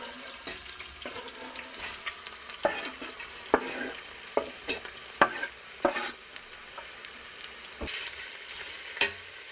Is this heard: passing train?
no